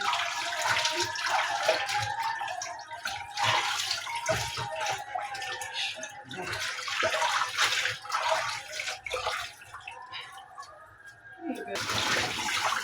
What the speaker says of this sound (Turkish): Şöyle fasulyelerimi dedim bir yıkaya. Islayalım fasulyelerimi.